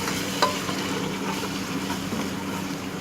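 Sizzling in a pan with steady scraping as thick ginger garlic paste is stirred, one sharp clack early on.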